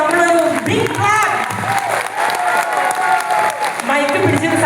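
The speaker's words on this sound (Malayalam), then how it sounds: "ഈ വലിയ പ്രതിമക്ക് കൊടുക്കട്ടെ നമ്മളൊരു ബിഗ് ക്ലാപ്പ്" Audience applause from a large crowd at a motivational public gathering, loud dense clapping filling the whole stretch with a few cheers mixed in.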